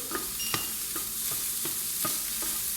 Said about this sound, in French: Tout ce qui est garniture aromatique, il faut les faire suer assez longtemps pour qu'il y ait un bon goût.